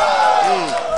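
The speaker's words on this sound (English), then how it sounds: "his friends cheering in the crowd in Spanish" A crowd cheers and yells at an Apex 2014 Super Smash Bros. Melee tournament match. The roar is loud, dense and sustained, with a rising and falling voice or whoop standing out briefly within it.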